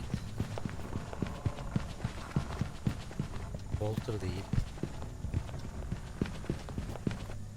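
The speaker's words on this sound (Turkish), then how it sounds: "Ayak sesi belirgin gayet." A ghost's footsteps in the video game Phasmophobia thud in a steady, evenly spaced run of heavy steps, clear and fairly close, while someone talks over them.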